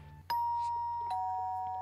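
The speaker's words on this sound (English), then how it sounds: "I ring the doorbell again." A doorbell gives a clear two-tone ding-dong chime, the second tone lower and ringing out, fairly quiet against a soft background hum.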